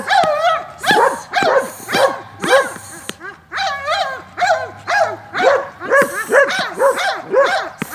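A dog in attack-command training barks repeatedly and loudly up close, rapid sharp barks in quick bursts with brief pauses between them.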